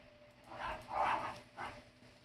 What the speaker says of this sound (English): Oh my God, my dogs.